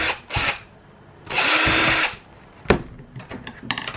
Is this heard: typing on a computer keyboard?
no